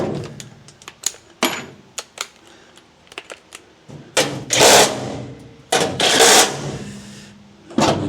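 A power tool drives floor bolts up from under an HQ coupe during a floor replacement, sounding as a series of short mechanical bursts and clicks followed by longer, louder whirring runs, close by with no speech.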